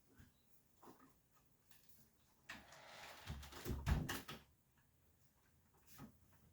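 A door pushed shut indoors to close off a screeching parrot in the next room, a short cluster of thuds and rattles in the middle of a quiet room with faint background noise.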